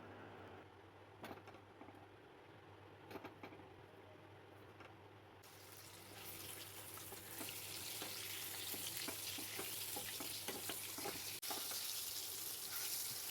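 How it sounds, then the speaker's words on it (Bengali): Eggs frying in hot oil in a wok, a soft hiss that swells into a brighter, steadier sizzle midway, fairly faint and without talk. "কড়াই গরম করে পরিমাণ মতো তেল দিয়ে ডিমগুলোকে ভেজে নেব।"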